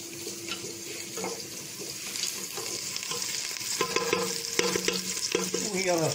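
Onion, garlic, ginger and vegetables sizzle and fry in a pot for a lentil vegetable soup, with a continuous close crackle, clattering stirs and a faint watery hiss throughout, no speech.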